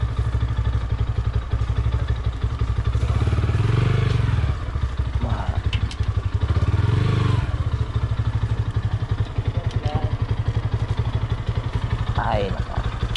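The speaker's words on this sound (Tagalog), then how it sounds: "Atras mo nga yung motor, Axel, na bibilad na eh." A motorcycle engine idles steadily in a rapid, even chug, with two louder swells where the throttle rises, while people talk nearby.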